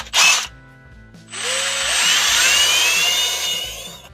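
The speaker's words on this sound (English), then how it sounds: "we're going to take this 5/32 drill bit, and we'll take and put some holes on this base" A power drill fitted with a 5/32 bit bores holes into the base of a plastic kayak fishing crate. A short high burst comes first, then after a pause a sustained whine rises in pitch as the bit spins up and cuts steadily, close and loud, with no talking.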